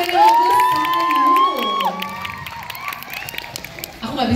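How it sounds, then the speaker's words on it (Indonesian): A concert crowd cheers and applauds after a wildlife-themed song, shrill whoops and shouts over clapping, loud at first and then settling into a looser patter with more voices near the end. "Boleh dong, kita kasih tepuk tangan."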